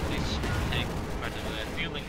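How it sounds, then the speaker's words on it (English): Priest self-propelled guns lay down artillery fire in Company of Heroes 2, a dense rumbling battle wash of booms and impacts with no clear separate shots. "Yet another artillery coming out from the priests"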